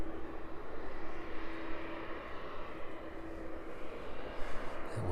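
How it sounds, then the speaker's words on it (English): An Embraer jet passes overhead on approach to East Midlands Airport near Kegworth on a cold evening, a steady broad engine roar holding at moderate level throughout with no voices. "the Embraer over Kegworth"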